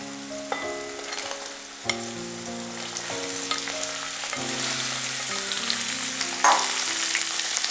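Chopped lemon sautés in hot oil with garlic, ginger and green chillies, a loud, steady close-up sizzle with occasional stirring clicks and a few sharper pops, while sustained tones hum in the background.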